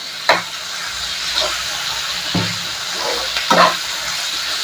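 Ingredients for an idli and dosa chutney sauté in a pan under a continuous frying hiss, with a few sharp stirring scrapes at irregular intervals.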